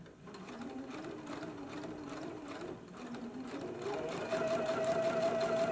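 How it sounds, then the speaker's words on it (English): Sewing machine stitching thin fabric straps together for a slip dress, a close, steady rapid whirring and needle pattering that speeds up and grows louder toward the end. "let's go ahead to the machine now and stitch both of our straps together"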